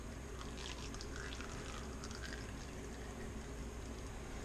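Engine oil drains from a John Deere 430 tractor in a steady, faint trickling pour, a continuous liquid flow with light dripping and no clear talk.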